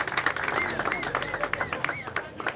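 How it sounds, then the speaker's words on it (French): A crowd at a Congolese political gathering claps and cheers for the president. Dense applause runs throughout, with a voice calling over it. "Acclamez pour le président."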